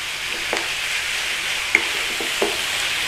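Ground meat browns in a pan with onions and spices, a steady close sizzle and fry with a few scraping stirs and light clicks of a utensil against the pan, no talking.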